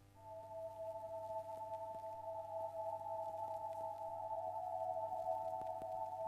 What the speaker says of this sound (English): this Dusty Records synth, which is a nice vinyl-y synth